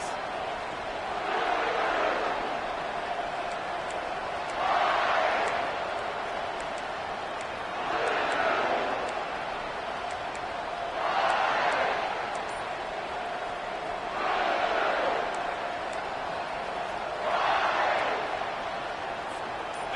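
Home crowd at a football game surging into loud roars in repeated swells about every three seconds, rising and falling over a steady background din.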